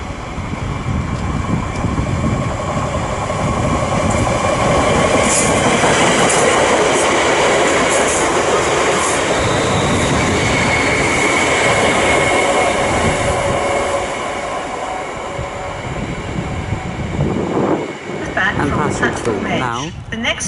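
A train rolls through Watford Junction station on the West Coast Main Line, a loud close rush of wheels and rail noise with rhythmic clatter that swells and then eases toward the end.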